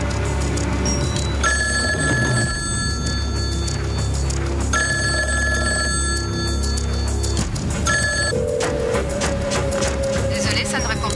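A hotel switchboard telephone rings in repeated bursts with nobody picking up, the bell tones separated by short pauses over a steady low background hum.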